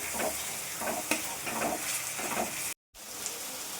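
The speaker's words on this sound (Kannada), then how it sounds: "ಶುಂಠಿ ಬೆಳ್ಳುಳ್ಳಿ ಪೇಸ್ಟ್ ಹಸಿ ವಾಸನೆ ಹೋಗೋ ತನಕ ಫ್ರೈ ಮಾಡ್ಕೊಳ್ಳೋಣ" Ginger garlic paste fries in a pan for paneer bhurji, a dense close sizzle with rhythmic stirring strokes about every half second and one brief dropout.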